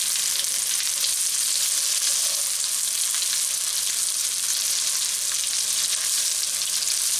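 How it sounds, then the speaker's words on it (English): Salisbury steak patties sear in a hot pan with a loud, continuous hiss and crackle that holds steady throughout, heard up close with no voices. "We want a little bit of a sear there."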